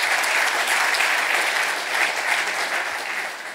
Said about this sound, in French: Des applaudissements plus que mérités